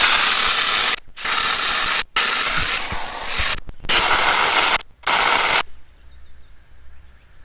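A Max-Trax Indiflate deflator releases air from a vehicle's tyres in loud, close bursts of broadband hiss, interrupted by several short pauses, before falling away to quiet.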